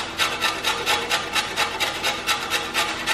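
A carrot is grated over bulgur, making rapid, rhythmic rasping strokes, a dozen or so evenly spaced scrapes, close and fairly loud with no speech.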